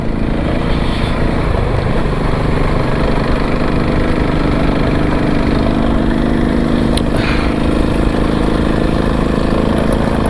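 An off-road motorcycle engine drones steadily and loudly on a rough trail, its throttled note holding with little change from start to finish and no talk over it.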